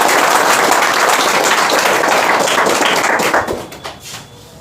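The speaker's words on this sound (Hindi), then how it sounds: "एक बार ताली बजा दो" A large audience at a motivational talk bursts into loud, close clapping that holds steady for over three seconds, then thins out into a few scattered last claps and fades away.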